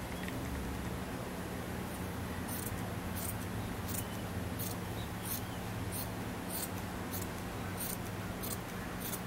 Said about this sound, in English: I'm just gonna cut out this part out